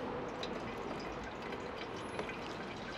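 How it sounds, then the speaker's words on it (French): Water runs quietly from the tap of a Boxio Wash portable camping sink, a soft, steady trickle and splash after the pump has been pressed, with no voices. "On va lancer le robinet."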